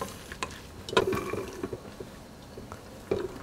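Sliced shiitake mushrooms being stirred in a pot, giving soft wet squelches and light scraping ticks at an uneven pace, close and fairly quiet with no talk.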